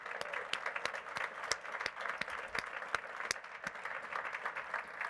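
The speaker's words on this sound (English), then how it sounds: "So let's give them a huge round of applause." Applause from the audience at a National Governors Association summer meeting: fairly faint, distant clapping with individual sharp claps standing out in an even, continuous patter.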